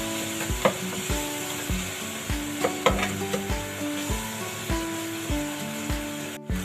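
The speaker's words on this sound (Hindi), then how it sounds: "दही डाल के मैं अच्छी तरह से मसाले को भून लेना" Masala frying with yogurt in a pan for qeema with shimla mirch, a steady sizzle under repeated scraping stirs of a spoon against the pan, close and continuous with no talk.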